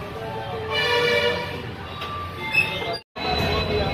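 Train with a locomotive passing on the adjacent track at Yeshwantpur, a steady close rumble with metallic ringing wheel tones, a brief squeal, and a sudden drop to near silence before the noise returns.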